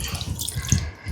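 Water poured into curd for Kerala-style onion kichadi, a short close gurgling splash lasting about a second.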